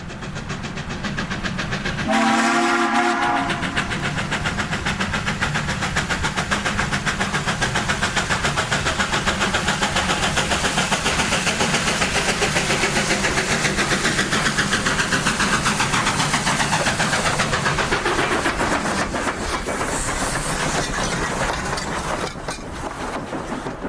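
Durango and Silverton narrow gauge train running through winter country along reverse curves, with steady loud chuffing and wheel rumble throughout, a brief whistle-like tone near the start, and no talk.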